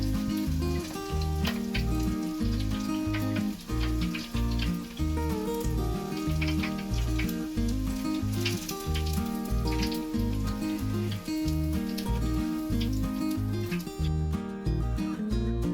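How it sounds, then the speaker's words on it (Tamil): Garlic fries in hot oil until crispy for South Indian kaara boondi, a dense, continuous crackling sizzle heard close up, steady and fairly loud without talk. "பூண்டு வந்து நல்லா மொறு மொறுன்னு வேகணும்."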